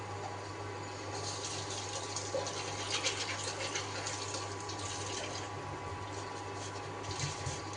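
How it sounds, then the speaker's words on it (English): A potato rinsed under a running kitchen tap, a steady splashing stream of water with a low hum beneath, continuous and fairly faint throughout, no voices. "let me wash it very quickly"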